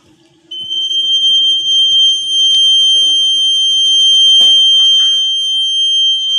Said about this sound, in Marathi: ते टाकी भरले की ती बजर वाजतो